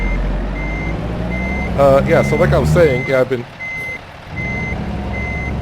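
Truck reversing beeps in American Truck Simulator, a steady evenly spaced electronic alarm pulsing over a low engine rumble, pausing while someone talks and then resuming its regular rhythm.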